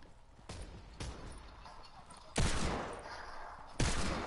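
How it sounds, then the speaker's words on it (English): Gunfire in a shooter video game arrives as a few sharp, isolated bursts with quiet gaps between them, the later shots louder and followed by a short decaying tail. "Bro, we were getting shot from multiple angles"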